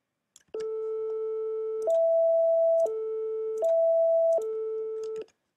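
A root note and its perfect fifth are played as clean, sustained electronic tones. They alternate in even steps, low then high, several times, each pitch held for about a second, with no voices.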